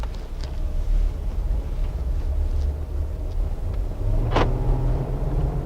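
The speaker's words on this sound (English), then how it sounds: "Now let's go take this for a test drive." Jeep Wrangler JK fitted with an Edelbrock E-Force supercharger driving, a steady low engine drone with wind rush inside the cabin and a brief sharp rattle near the end.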